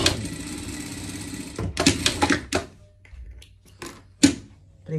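A sewing machine runs in a steady stitching burst while joining the shoulder seams of a surgical garment, then stops, followed by a few short close clatters and thumps of fabric handling.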